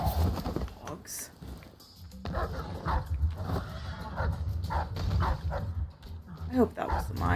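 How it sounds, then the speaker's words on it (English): Dogs barking in the video game Dishonored: Death of the Outsider, a run of sharp barks and yips mixed with game sounds, under steady talk from a player. "Dogs."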